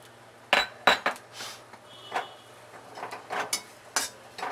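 Roasted green chilies and cumin drop into a metal mortar while making Maharashtrian thecha, giving a few sharp, scattered clinks and taps against a quiet kitchen background.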